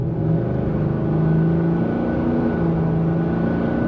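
A 2024 Ford F-350 pickup's 7.3L V8 drones steadily, rising gently as the truck accelerates, heard from inside the cab, deep and continuous with no voices.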